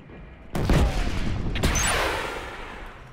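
Gunfire in a Killzone Shadow Fall team deathmatch: a sharp loud shot followed by a second blast about a second later, each trailing off into an echoing tail, with no talk over it.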